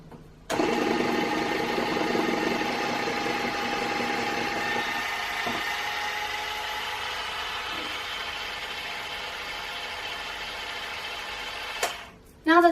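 Batter for a gluten-, lactose- and yeast-free cinnamon loaf is beaten with a steady, loud motorized whir that runs unbroken for about twelve seconds before cutting off abruptly.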